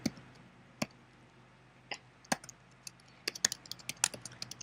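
Keys on a computer keyboard clatter in sparse, irregular clicks, a few isolated taps at first and then a quicker burst of typing, close and fairly quiet with no voices.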